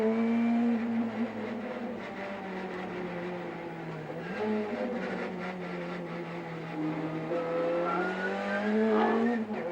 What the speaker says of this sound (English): Car number 50. This is the BMW M3